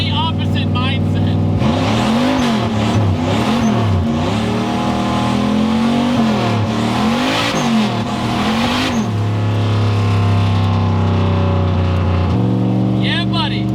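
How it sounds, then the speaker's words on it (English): A turbocharged, engine-swapped Nissan 240SX drift car with a dump exhaust by the rear differential revs hard in rising and falling surges, loud and close, then settles into a steady high drone. "So when you get on the gas, it just echoes straight off the ground and into the trees to create this very ferocious feeling"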